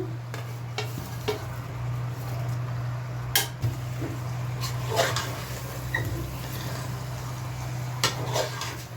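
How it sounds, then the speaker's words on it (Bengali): Potatoes go into a cooking pot with a low sizzle under repeated metallic scrapes and clinks of a spoon against the pot, in a steady stirring rhythm; a constant low hum runs underneath. "এর মধ্যে আমি আলুগুলো দিয়ে দেবো।"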